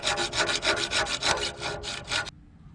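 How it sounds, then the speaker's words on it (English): A hand hacksaw cuts through a rusted, rounded-off exhaust manifold flange bolt on a 2003 Ford F150, making about a dozen quick rasping back-and-forth strokes up close before it stops. "I'm gonna have to cut this nut off. This one's rounded off, completely rusted."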